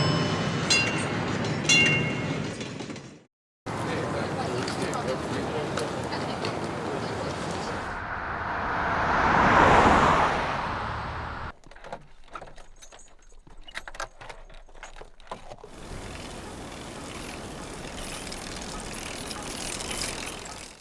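Street sound effects for a busy crossroads with pedestrians, a tram, a bicycle, a car and a horse-drawn carriage, heard as a run of separate clips: clattering, rattling and ratcheting mechanical noises, a swelling rumble that rises and fades, and steady traffic noise.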